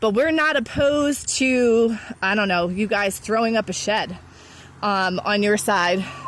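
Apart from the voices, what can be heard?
No everyday noises stand out.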